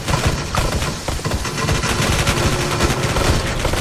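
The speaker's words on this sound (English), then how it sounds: "oh no, it's an LMG" A light machine gun fires in a StarCraft 2 game, a dense, loud, unbroken stream of rapid shots and booms at close range.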